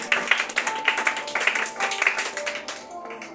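Congregation applauding for the Lord during a church service, a dense run of rhythmic claps with a steady pulse that thins out near the end, heard alongside a sustained tone.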